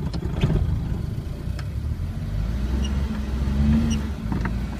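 Engine of a 2017-2018 Suzuki Bolan pulling away as the clutch is released with light throttle, a low steady rumble from inside the cab that swells slightly toward the end.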